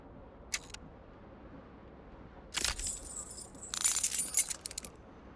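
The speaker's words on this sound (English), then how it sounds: "Keys are clinking in the pocket of your flare-cut pants." Keys on an aluminium keyring jingle and clink in a trouser pocket in the game Disco Elysium, a brief metallic shake early on, then two louder jangling bursts close up, with no talk.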